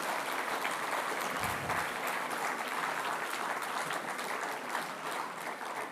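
An audience at a school event claps steadily for several seconds, a dense, sustained round of applause from a crowd at moderate distance, with no speech over it.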